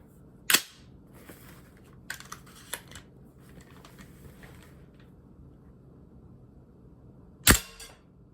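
A Viper Tech M733 airsoft rifle fires two sharp, loud, isolated shots several seconds apart, with faint clicks and handling noise between them and no talk.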